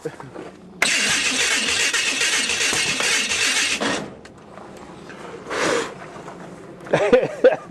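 A car engine with headers cranks and fires, roaring steadily for a few seconds, then cutting off, followed by another short rev burst and faint voices near the end.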